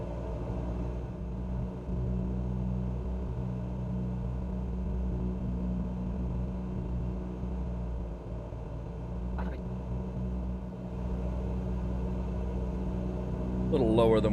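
Airplane engine in Microsoft Flight Simulator 2020 on final approach to White Plains, a steady low rumbling drone throughout, swelling slightly louder near the end as power is added, with some voice talk over it.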